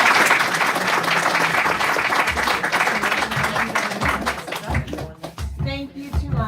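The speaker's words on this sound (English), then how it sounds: "So let's give all of our spellers another round of applause." An audience applauds the participants at a school division spelling bee, a loud wash of clapping that thins into scattered individual claps, with voices murmuring toward the end.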